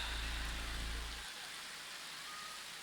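Rain falls at an outdoor Halal Bihalal gathering as a steady, broad hiss of moderate loudness, with a low hum under it that stops partway through.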